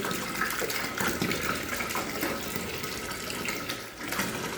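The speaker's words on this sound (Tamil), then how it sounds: "இப்போ நம்ம வந்து தண்ணி விட ஆரம்பித்தாச்சு" Water gushes and splashes steadily into a tank, a continuous close rushing sound with no pauses.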